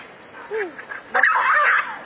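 Several dogs snarl, yelp and bark while fighting, with whimpering cries and a burst of frantic scuffling barks, close and loud.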